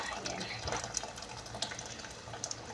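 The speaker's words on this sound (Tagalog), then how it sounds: "Dagdagan natin ng tubig" Water runs from a tap into a pot of salmon sinigang, a soft continuous splashing pour with faint clinks, while someone talks over it.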